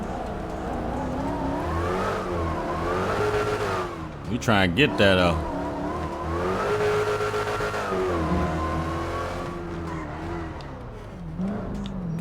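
A Jeep Grand Cherokee Trackhawk in the GTA 5 video game, its engine revving up and down continuously with a brief tire squeal midway, loud and close, while someone talks over it.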